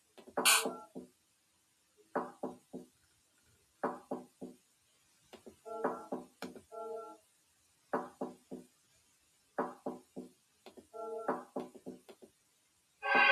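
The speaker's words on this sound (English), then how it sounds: "there's someone knocking on the front door" Knocking on a front door comes in repeated bursts of three or four sharp raps, separated by pauses of a couple of seconds, fairly close and otherwise quiet, with no talk during the knocks.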